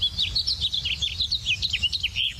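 A Cassin's finch sings a quick, warbling run of high chirps and twitters in a spring gulch, the phrase ending on a rising note, clear and fairly close with a faint low background.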